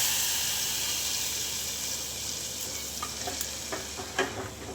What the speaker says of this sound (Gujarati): આ રીતે આપણે ઉપરથી વઘાર કરી દઈએ.